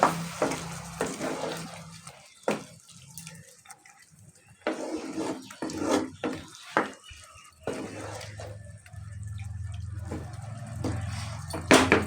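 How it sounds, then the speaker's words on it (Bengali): Water runs from a kitchen tap to rinse a bowl that held ground spice paste, with steady flowing and splashing in bursts broken by short pauses, close to the sink and with no talk. "যে বাটিতে মশলা করেছিলাম সেই বাটিটা একটু ধুয়ে জল দিয়ে দিই"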